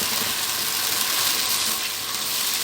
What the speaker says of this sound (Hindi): चिकन को जब हम डाल देंगे तो इसके बाद हम इसकी अच्छी तरह से भुनाई करेंगे अदरक लहसुन के साथ